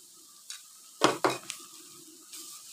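Garlic ginger paste fries with onions in a pot for palak gosht, stirred with a spoon: a soft sizzle with two sharp scraping clanks of metal on the pan and a few lighter taps.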